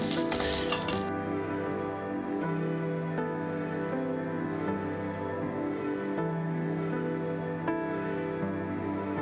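Soft, sparse clinks and scrapes as a utensil lifts fried eggplant out of an oil-filled pan, heard close and faint over a steady background hum and sizzle.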